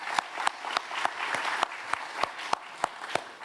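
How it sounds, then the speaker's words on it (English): An audience at a downtown annual meeting claps together, a fairly faint, even patter of hands with a few sharper claps standing out, no talking over it. "Can we give a round of applause for the Planet Word Museum?"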